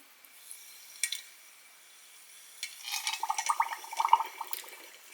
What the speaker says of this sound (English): And then I just pour water.